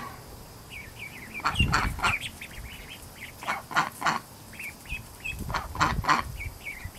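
High, repeated peeping calls from a young duck ring out in short bursts over background quacks and rustling, close and clear.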